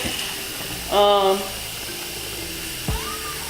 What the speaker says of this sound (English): I'm gonna rinse it with cold water.